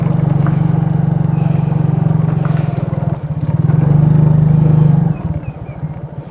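A motorcycle engine labours loudly and steadily up a climb, a deep continuous drone that dips briefly and then surges again, with faint clatter underneath and no voices.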